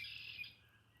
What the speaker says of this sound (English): I swear there's a bird right beside me